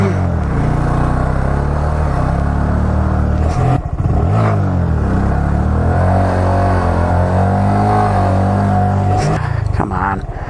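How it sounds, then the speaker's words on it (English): Motorcycle engine revs as the throttle is slowly increased at a stunt lot, loud and close, a continuous rising and wavering drone with a brief dip near the middle. "what I'm doing is slowly giving it more gas to get it up there"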